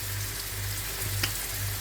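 Rice frying in a pan with salt, a steady close sizzle with a low hum underneath and one brief clink partway through.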